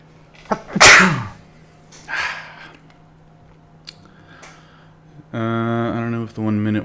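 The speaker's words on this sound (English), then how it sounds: "I gotta sneeze." A single sharp, explosive sneeze bursts out near the start, followed by a sniff and quiet noises, then a voice speaks toward the end.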